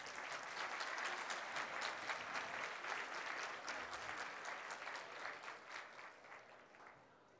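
Sustained applause from a wedding audience at a collective wedding ceremony in Boca del Río, a dense steady clatter of many hands that holds strong and then gently tapers off toward the end, with no talking over it.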